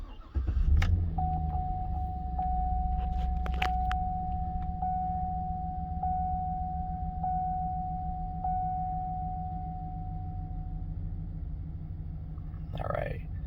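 A 2007 GMC Yukon Denali with a 6.2L V8 and low oil pressure fires up right after an Amsoil engine flush, then settles into a steady, close idle rumble while a thin electronic chime pings repeatedly over it before fading.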